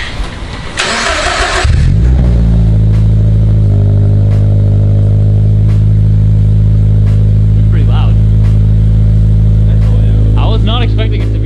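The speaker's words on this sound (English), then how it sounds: "this exhaust sounds really underwhelming and not loud at all" A Subaru BRZ with an Invidia N1 exhaust cranks and fires up, then settles into a deep, steady idle with rumbling exhaust, loud and close; brief voices are heard near the end.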